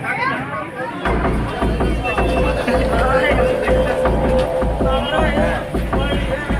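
Dense crowd babble fills a busy railway station platform, many overlapping voices close and far under a low rumbling hum, with footsteps and movement; a nearby voice talks over the din.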